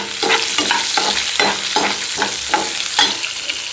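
Finely chopped onion and cumin frying in oil, a loud close sizzle with a regular series of spatula strokes scraping the pan roughly every half second.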